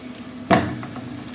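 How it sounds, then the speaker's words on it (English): Hot fat poured into a red-hot Yorkshire pudding tin hits with a sudden sharp sizzle that fades into a soft crackle, quiet and close. "And you can hear that sizzle."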